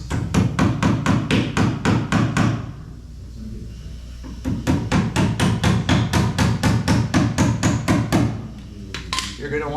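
Rapid bursts of hammer blows tacking expansion strips onto a barrel: two long runs of quick, evenly spaced strikes separated by a short pause, loud and close.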